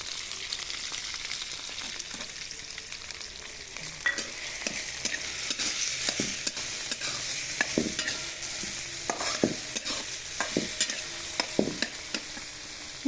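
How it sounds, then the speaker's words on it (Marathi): Soaked mung dal fries in hot oil while being stirred, giving a soft steady sizzle broken by frequent sharp scrapes and clicks of the spoon against the pan, close and without speech. "ही चांगली भाजून घ्यायची तेलामध्ये, म्हणजे चांगली शिजते."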